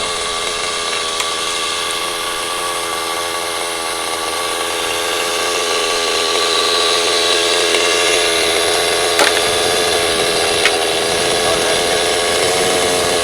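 A Stab Nitro RC helicopter's nitro engine runs at a high, steady pitch, a continuous buzzing whine that grows slightly louder partway through, with no voices.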